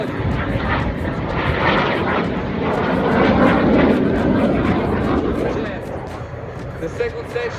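A jet aircraft roars through aerobatic manoeuvres at the 2024 Rochester, NY airshow, a loud sustained engine rush swelling and fading while an announcer talks over the loudspeakers.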